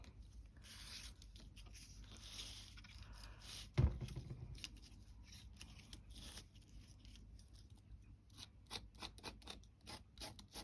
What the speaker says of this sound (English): So I've got this Daler Rowney texture paste, which is quite thick texture paste, and my spatula thing.